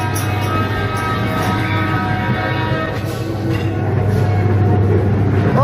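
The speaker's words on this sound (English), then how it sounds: "The slowest train in Blackpool." A low, steady rumble of a slow-moving ride train at Blackpool Pleasure Beach amusement park, continuous mechanical droning with faint squeals near the end.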